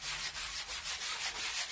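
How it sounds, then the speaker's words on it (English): Light hand sanding over a painted wooden holiday sign: steady, close rubbing strokes that rise and fall in an even rhythm, with no talking. "Very, very light sanding just to even out the paint a little bit"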